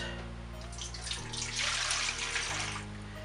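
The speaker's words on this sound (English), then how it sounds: "so easy you just add the water first" Water runs from a kitchen tap into a bowl for pizza dough, a steady bright rushing stream that swells and grows louder midway, close by, over a low constant hum, with no talking.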